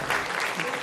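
Audience applause at a community gathering, a dense burst of many hands clapping at once, loud and close, with some voices mixed in.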